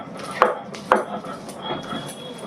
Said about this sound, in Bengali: এখানে আদা রসুন বেটে নেবো একসাথে।